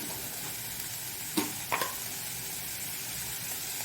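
Corn cutlet mixture cooks in a hot pan with a steady sizzle and a couple of sharp scrapes of a spoon stirring it.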